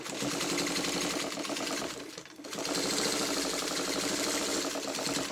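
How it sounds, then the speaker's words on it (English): Sewing machine stitching across touching quilt blocks, a steady, loud, continuous whirring run of rapid stitches with a brief pause midway before it resumes. "You want to just do a couple of stitches across, just so you're onto the next block, because they're touching"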